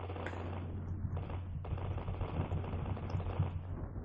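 Rapid bursts of video game cannon fire against a castle rattle over a steady low hum, the shots tumbling quickly one after another with no voices.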